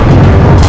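A loud, close explosion booms and rumbles continuously through a shooter video game's combat, with no talking over it.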